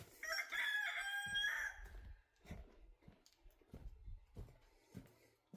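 A homestead rooster crows once, loud and close, followed by scattered soft clucks and farmyard shuffling at feeding time.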